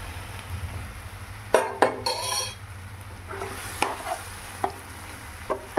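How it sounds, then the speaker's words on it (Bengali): Partly cooked mung dal tipped into a frying pan of fried ingredients and stirred, with clanking utensil knocks against the pan and scraping stirs over a low background. "ফ্রাই হয়ে গেলে তারপরে আমরা এতে মুগের ডালটা ঢেলে দেব।"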